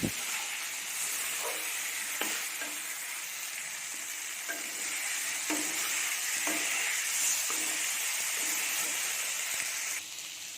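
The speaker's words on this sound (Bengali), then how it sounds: "তারপর আলুগুলো আমি কিছুক্ষণ নাড়িয়ে চাড়িয়ে ভালোভাবে কষিয়ে নিলাম" Fried potatoes being stirred and sautéed with spice paste in a pan give off a steady, dense sizzle and frying hiss throughout, with soft scraping stirs recurring every second or so.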